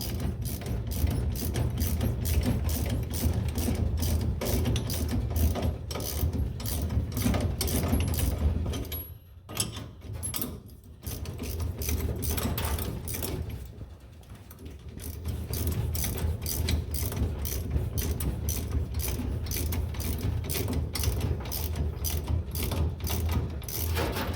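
Rapid ratchet clicking while bolts are snugged up during leaf spring installation on a Ford 9-inch axle housing in a garage, dense and steady with two short pauses midway.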